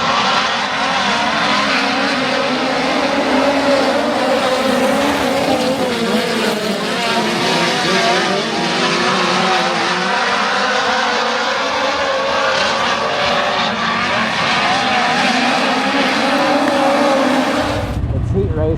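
Midget race cars on the red clay of Bloomington Speedway, a loud continuous engine roar with rising and falling pitch as cars circle, with talk faintly mixed in.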